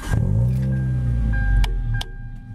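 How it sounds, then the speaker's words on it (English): A Hyundai Tiburon's car horn, sounded through a DIY NRG steering wheel horn button while parked at home, gives one close, steady blast of about two seconds over a low rumble, then stops. "You guys hear the horn?"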